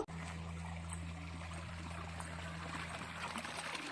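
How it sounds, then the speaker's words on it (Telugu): Floodwater from the Krishna River trickles and gurgles steadily out of street drains, fairly quiet, with a constant low hum running beneath the flow and no talking. "అక్కడ వాటర్ సౌండ్ చూసారు కదా అవైతే కాలువల నుండి"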